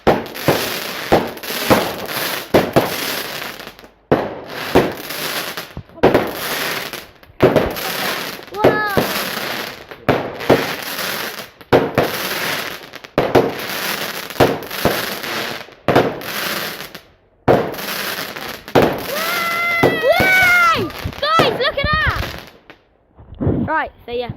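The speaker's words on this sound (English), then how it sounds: "There's the fireworks down there." Fireworks on bonfire night bursting in rapid rows of sharp, loud cracks and bangs, with crackling spells and whistling rockets near the end, going off for a long stretch in the open.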